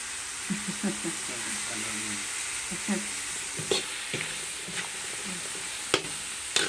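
Vegetables with fried fish sizzle steadily in a frying pan while a utensil stirs and scrapes in occasional clinks, and a voice murmurs briefly in the background.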